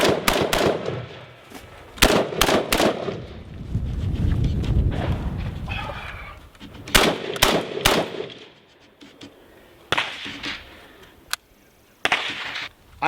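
An IWI Tavor rifle fired on a range around barricades, with loud close shots in quick pairs and clusters separated by pauses, plus shuffling movement and rustle between strings.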